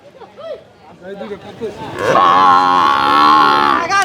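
At the Hazratpur cattle market, a cow lets out one long, loud, drawn-out moo lasting nearly two seconds, preceded by people chattering nearby and followed by a short trailing bellow.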